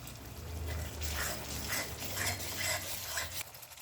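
A utensil repeatedly scrapes and stirs chicken curry spice paste mixed with cumin paste in a pan, giving rhythmic close-up strokes over a soft background hiss, with no talking.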